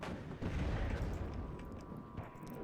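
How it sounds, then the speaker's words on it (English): Mortars firing in the real-time strategy game WARNO, a faint rumbling barrage of low booms rolling together, distant and continuous across the short span. "good mortars still firing"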